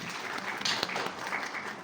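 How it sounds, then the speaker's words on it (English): Applause from an audience at a university panel discussion on AI, a brief steady patter of clapping from a modest crowd, moderately distant and fairly quiet throughout. "Please clap for her."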